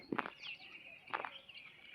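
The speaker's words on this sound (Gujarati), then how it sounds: "કેટલી બધી ચકલી છે" Faint, brief chirps of sparrows in two short bursts, distant and quiet against a soft background hiss, at a farm field.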